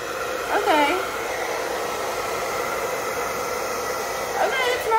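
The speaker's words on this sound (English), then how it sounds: "So this is the hairdryer, Babyliss Turbo Extreme" A Babyliss Turbo Extreme hair dryer runs with a steady, loud airflow roar for the full five seconds, and a voice comes through faintly over it at a couple of points.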